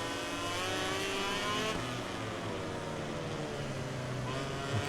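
Red Bull KTM motorcycle accelerating in MotoGP 18, a steady high-pitched engine drone rising through the gears, loud and continuous throughout with no talk.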